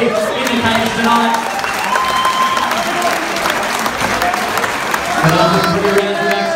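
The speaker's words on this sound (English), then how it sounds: "a round of applause for both athletes here in the cage tonight" Crowd applause and cheering for two MMA fighters in the cage after a three-round fight, a steady, dense roar that fills the whole stretch, with an announcer's voice running over it.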